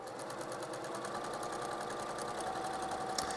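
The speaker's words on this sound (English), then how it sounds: "I'm gonna drop that presser foot down, and now I'm gonna do basically the same seam allowance" A sewing machine stitching a single-fold hem on a one-yard skirt, a fast, even mechanical whir-and-tap rhythm running steadily throughout at close range, no talking.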